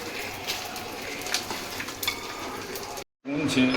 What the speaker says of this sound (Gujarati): પેલા ઘીમાં છે ને ગુંદ તળવાનો ચાલુ કર્યું છે